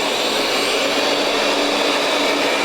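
A Roborock S7 Max V Ultra robot vacuum mops up spilled milk, giving a constant loud whooshing hum of motor and airflow with no pauses throughout.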